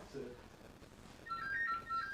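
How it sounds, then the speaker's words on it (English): An internal phone rings during a night-time ghost hunt at a building in Blyth, a faint electronic trill repeating in short bursts, heard at a distance beneath quiet talk and room noise. "There's a phone going off."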